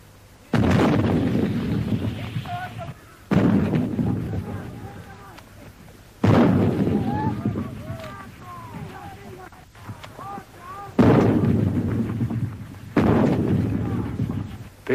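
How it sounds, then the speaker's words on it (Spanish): Artillery battery firing in the Falklands in repeated heavy booms, five or so blasts at irregular intervals, each long rumble decaying slowly, with voices faintly audible between shots. "¿hacia dónde está dirigido el fuego de su batería?"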